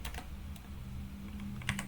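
Brief computer keyboard typing while entering a network command on a PC, a few sharp clicks at the start and end over a steady low background hum.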